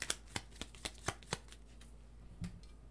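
Tarot cards are shuffled by hand during a reading, a handful of soft riffling snaps at a steady pace that trail off into a quiet rustle, close and faint.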